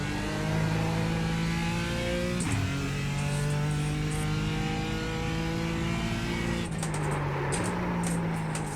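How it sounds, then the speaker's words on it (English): A BMW M4 GT4 race car in the iRacing sim, heard from outside, its exhaust note revving loud and steady, with the pitch dropping at two gear shifts. No one talks. "we'll have a listen to what this thing sounds like from the outside, because I think the audio track coming from this exhaust is probably its feature point"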